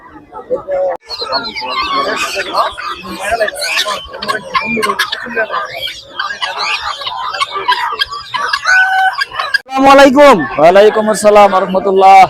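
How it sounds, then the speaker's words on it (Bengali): Chickens cluck and call at a bustling poultry market in Narayanganj, including American, Indian Kadaknath and Chinese Silkie breeds, mixed with constant nearby talk and a louder, close bird call near the end. "এই যে দেখেন মুরগিগুলো কি সুন্দর"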